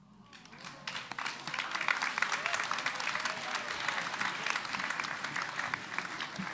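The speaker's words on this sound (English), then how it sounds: "a killer last line gets the crowd oohing and ahhing" Applause from a school audience at a Grade 11/12 spoken word poetry competition follows a performance, rising quickly after the first second into sustained, moderately distant clapping with a little crowd murmur beneath.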